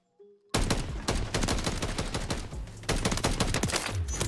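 A Sidewinder gun in Call of Duty MW3 fires a loud, rapid automatic stream of shots, close and sustained after a brief quiet start, with no talk.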